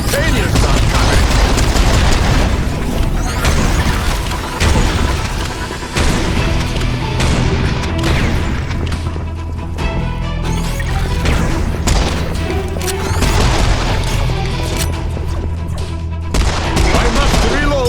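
Dense, heavy gunfire from the video game Serious Sam 4, with rapid bursts, booming blasts and crashes running continuously and loudly throughout.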